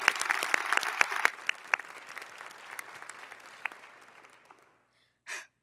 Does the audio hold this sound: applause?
yes